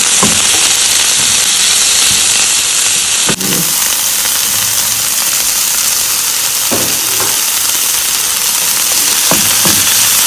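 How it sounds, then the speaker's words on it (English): Peppers, tomatoes and carrots saute in a hot pan, giving a steady, close sizzle and hiss throughout, with a few soft clinks of stirring and no talk. "You saute it for 1 minute."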